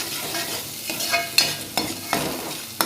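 Stuffed brinjal masala being stirred in a pan over a low flame: a soft sizzle beneath repeated scraping strokes of a spatula, each stroke a distinct close scrape, roughly four in quick succession.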